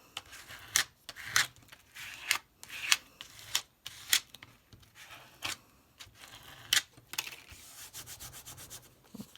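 Scissors snip through a paper card, giving a series of short, close, crisp cuts and rubbing sounds at an uneven rhythm, with quiet pauses between them.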